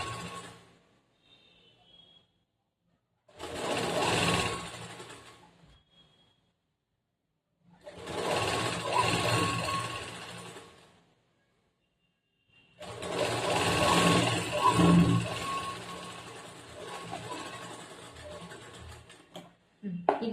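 Sewing machine stitching a folded half-inch blouse hem in three loud bursts of steady whirring, each lasting a few seconds, separated by quiet pauses.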